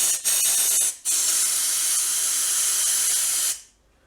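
Compressed air blasts through parts removed from a military-themed mini bike: a few short hissing bursts, then one long, loud, steady rush of air that cuts off abruptly, with no talking.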